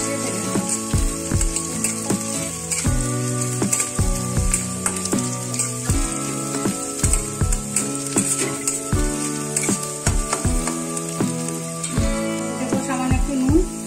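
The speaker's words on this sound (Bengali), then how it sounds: "এটাকে ভালো করে দুটোই ভালো করে একসঙ্গে মিশিয়ে ভেজে নেব।" Onion and crushed garlic fry together in a pan, a loud, close crackling sizzle overlaid by frequent rhythmic stirring scrapes and clinks of a spatula throughout, with no one talking.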